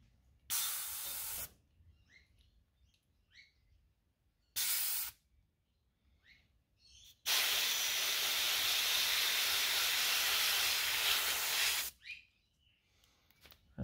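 Aerosol metal-colour spray paint hisses onto a lipless crankbait lure, two short bursts followed by one long sustained blast, close and sharp against near silence.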